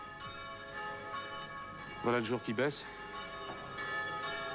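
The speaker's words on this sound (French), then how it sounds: "Quel ennui, ces cloches!" Church bells ring steadily with a sustained metallic hum during a stage play, and a voice speaks briefly partway through in French.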